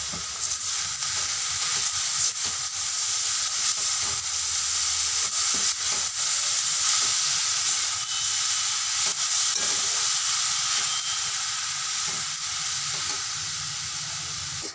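Noodles and half-fried vegetables for veg chowmein stir-fry in a hot pan, producing a loud, steady hiss and sizzle with faint scraping of the stirring, and no talking.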